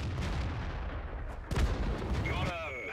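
An artillery gun firing in World of Tanks gives one heavy, booming shot midway through, preceded by a low rumble and followed by a fading metallic whine.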